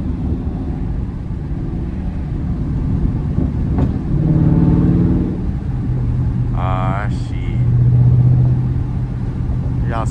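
A Dodge Charger Scat Pack with the 392 engine rumbles while drifting, its exhaust swelling in two revving surges over a steady low drone, with tire squeal and a voice talking over it.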